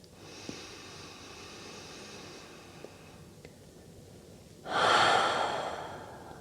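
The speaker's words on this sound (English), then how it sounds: "Take an inhale, prepare to move." Deep breathing during a yin yoga class: soft airy breaths through the first half, then a strong, loud inhale or exhale near the end, close to the mic with no talk.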